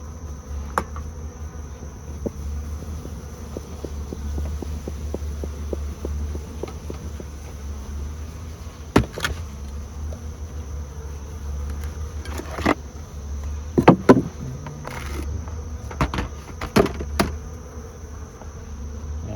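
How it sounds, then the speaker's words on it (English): A steady, dense hum of many honey bees buzzing close by in an open hive during a heat wave, continuous throughout, with occasional brief clicks and knocks on top. "Lots of bees at the top."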